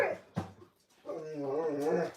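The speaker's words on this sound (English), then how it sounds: "Do you hear my dog?" A pet dog whines and whimpers for a treat in a home kitchen, a short yelp followed by a long, wavering, rising-and-falling whine close by, with no talking over it.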